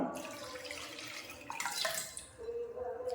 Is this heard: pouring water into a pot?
yes